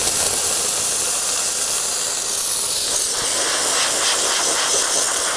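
Steam wand of an ECM Casa V espresso machine blasting a strong, continuous hiss for several seconds, loud and close, with a slight gurgling shift partway through as the steam works, no talking over it.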